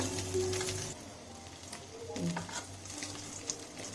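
Cabbage sizzles in a hot pan while being turned and stirred, a steady close frying crackle with light scraping bursts and no voices.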